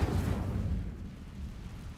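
Incendio fire spell cast in the video game Hogwarts Legacy, a single loud whooshing burst of flame that swells at once and fades into a low rumbling tail.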